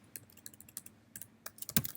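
Code being typed on a computer keyboard for an Android SQLite project, with quick, close, irregular key clicks in short bursts and a sharper hit at the end, with no talking over them.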